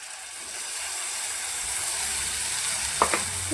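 Spice masala with tomato puree frying in oil for a village-style drumstick curry, a steady close sizzling hiss with a couple of brief stirring clinks near the end.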